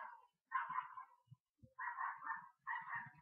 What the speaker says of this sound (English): And if you can hear that dog in the background, that is my little poodle.